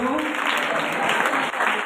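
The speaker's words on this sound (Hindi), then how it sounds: "जोर से ताली बजाए।" A congregation at New Jerusalem church claps loudly and steadily during a pastor's sermon, a short, dense burst of applause.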